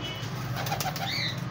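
Pigeons flap their wings at a pigeon market in Rawalpindi, a quick burst of fluttering close by over a low background hum.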